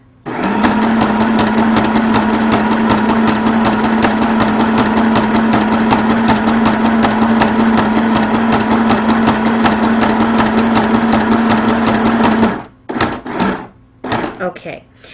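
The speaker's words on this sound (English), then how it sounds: "I'm going to do a zigzag stitch almost to the very end" Janome Sew Mini sewing machine runs a continuous zigzag stitch with a steady whirring hum and rapid needle clatter for about twelve seconds, then stops, followed by a few short handling clicks.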